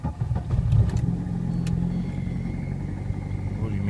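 A Lada Priora engine starts in freezing frost, a steady mid-pitched running rumble holding close and loud after a brief rougher burst at the start, with no speech over it.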